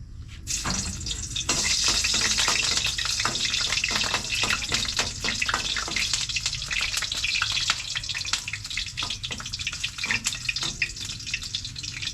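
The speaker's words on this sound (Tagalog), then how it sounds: "Init na yung mantika guys. Una nating ilagay yung ahos." Garlic drops into hot cooking oil and sets off a loud, continuous crackling sizzle, joined by scattered sharp pops and spatters for several seconds.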